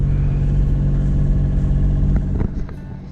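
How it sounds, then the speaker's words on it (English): A sailboat's engine running at sea, a loud, steady low mechanical drone with a strong hum that thins and drops in level toward the end. "I started the engine"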